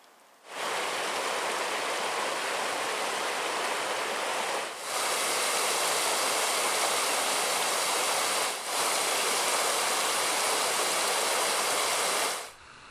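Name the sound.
creek flowing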